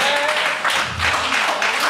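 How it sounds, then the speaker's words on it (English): A church congregation claps and cheers during a service, a loud continuous burst of applause with voices mixed in, filling the room for a couple of seconds. "Clap your hands for my little one more time."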